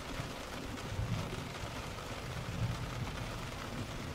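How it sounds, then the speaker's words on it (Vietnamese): Heavy rain falls steadily around a river carp-fishing spot, a soft, even hiss of drops on surfaces with faint low rumbles, quiet and continuous without talk. "trời đang mưa quá anh em này"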